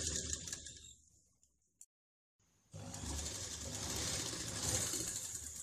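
A sewing machine top-stitches the lining of a simple blouse, with a short burst of running at the start, a brief pause, then a louder sustained whirring stretch near the machine.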